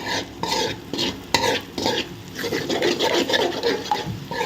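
Egg masala rice being stirred in a pan, a spoon scraping and mixing steadily against the metal with a soft sizzle of frying underneath, close and continuous with no talk.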